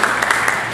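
A seminar audience at an Axé religious gathering in a city hall claps briefly, a short burst of applause with a few sharper claps standing out.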